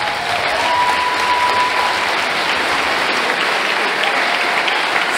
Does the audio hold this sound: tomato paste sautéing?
no